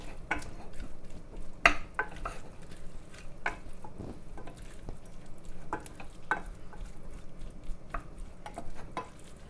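A wooden spoon stirs and breaks up beef mince frying in a pan: a steady sizzle throughout, punctuated by irregular close scrapes and knocks against the pan, with no talking.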